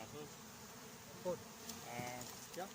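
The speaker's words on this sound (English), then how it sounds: "It's a strong colony with lots of bees." Honey bees from a strong colony living in a hive inside a large coral rock buzz steadily and faintly, with a few brief louder passes as individual bees fly close.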